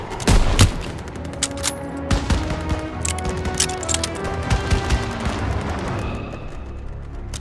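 Dense gunfire from the Call of Duty WWII campaign mission "Stronghold," with rapid rifle and machine-gun volleys, sharp cracks and heavy booms piling up continuously, loud and close throughout.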